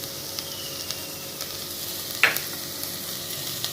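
Garam masala hits a pan of chana masala, which sizzles and fries steadily throughout with a faint stirring scrape, a short sharp crackle bursting up near the middle.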